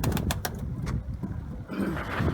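Low, soft cooing of pigeons in a coop murmurs steadily through the clip, with a few faint higher chirps and rustles near the start.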